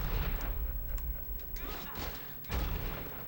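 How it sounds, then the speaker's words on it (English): Booming thuds from a bomb blast in Baldur's Gate: Dark Alliance II, with a couple of heavy low impacts, the strongest near the end, amid game noise. "One bomb, no waiting."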